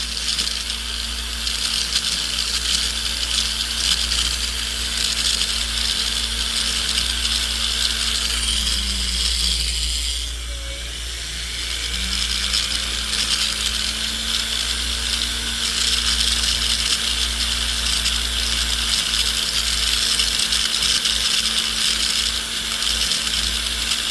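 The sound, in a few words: silicone polishing wheel smoothing white gold ring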